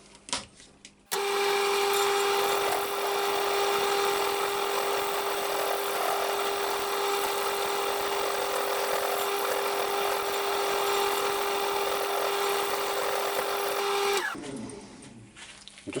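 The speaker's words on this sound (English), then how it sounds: "I'm just going to switch it on quite slow and just go over with a scraper, very gentle cut" A wood lathe spins a sycamore bowl blank at slow speed while a scraper makes a very gentle cut, a sustained motor hum with a steady whine and light scraping that starts abruptly, runs evenly, then winds down.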